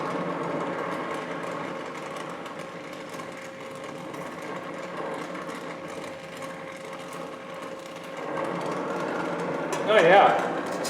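Metal lathe facing off the end of a bronze part on a Hendey tool-and-gear lathe, a steady mechanical hum and whir throughout, with a brief louder scrape near the end and a voice talking over it.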